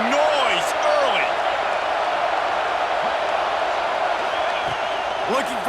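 Stadium crowd roar from EA Sports College Football 26, a dense, steady wash of cheering and whooping that stays loud throughout, with brief swells near the start and end.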